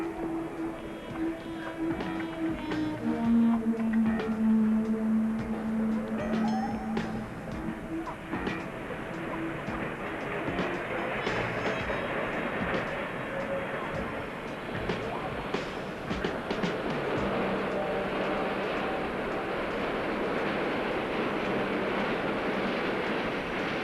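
A tourist train in a Spider-Man video game rolls in with a rumbling clatter and a sustained tonal hum early on, steady and moderately loud.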